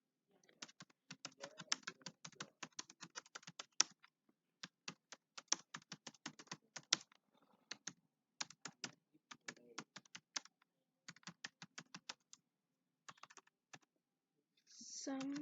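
Bursts of rapid keystrokes on a computer keyboard while data is entered into a form, close and clear, broken by short pauses across the whole stretch.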